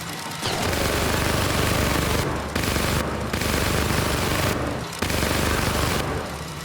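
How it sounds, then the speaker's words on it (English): Minigun fire in the cyberpunk shooter Syndicate: loud, sustained bursts of rapid automatic gunfire, with several brief pauses between long roaring volleys. "Shredding through corpo cronies with a minigun has seldom been so satisfying as it is in Syndicate"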